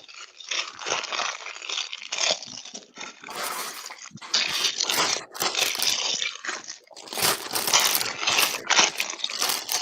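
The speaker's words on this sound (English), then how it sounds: "I just pour the brick out on the table" LEGO bricks poured out onto a table, a dense crunching, clattering cascade of small plastic pieces that rattles on in bursts for several seconds, close and loud with no talking.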